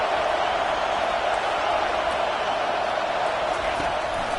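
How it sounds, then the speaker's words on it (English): A stadium crowd in a Madden football video game roars as a steady, dense wall of noise, loud and unbroken without distinct claps or voices. "Listen to this crowd just shaking the girders of this place trying to help their defense."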